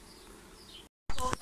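Bees buzzing inside a large hive in a wall cavity during a hive removal, a steady close hum that cuts off abruptly, then returns louder and closer after a brief silence.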